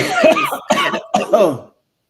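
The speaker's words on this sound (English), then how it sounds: "I just coughed." Three loud, close coughs in quick succession, then silence.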